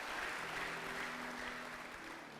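A church congregation claps together in sustained, even applause, a dense wash of many hands filling a large hall without a break.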